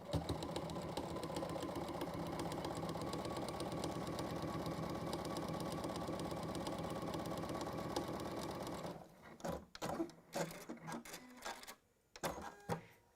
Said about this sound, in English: Onto there, chain piecing again.